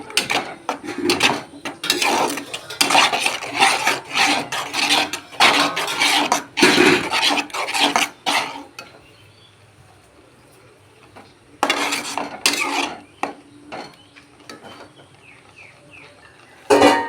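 Papaya payesh, a sweet papaya and milk pudding, being stirred in a pot, giving rhythmic scraping and clattering bursts of utensil against metal, loud and close, with a quiet pause midway before the stirring resumes.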